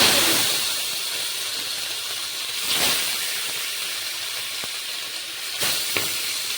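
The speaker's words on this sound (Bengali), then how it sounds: "কড়াইটা বেশ গরম হয়ে গেছে এবার এক এক করে মাছগুলো" Rohu fish pieces frying in hot oil in a wok, a steady broadband hiss and sizzle that swells briefly as each piece goes in, with no voices.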